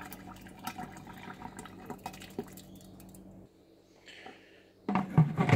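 Yeast being poured into wort while brewing a Mandarin IPA, heard as soft liquid trickles and drips near the start, a quiet lull, then a louder closer splashing burst at the end, with no speech.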